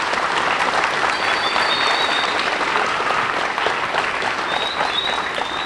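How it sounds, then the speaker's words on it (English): Sustained audience applause at a junior high school's 40th anniversary celebration, honoring faculty and staff; a full, even clapping roar from a sizeable crowd, steady throughout. "So give them a round of applause."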